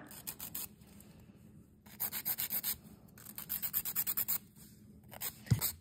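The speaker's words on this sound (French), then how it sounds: "je vais venir limer mes côtés, limer mon devant" A nail file rasping over a gel nail coating, short quick back-and-forth strokes in close rhythmic bursts with brief pauses between sets.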